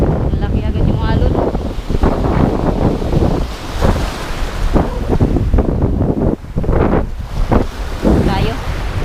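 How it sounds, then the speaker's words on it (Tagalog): Crashing sea waves roll and surge continuously beside heavy wind buffeting the microphone, loud and close. "Malaki agad yung alon."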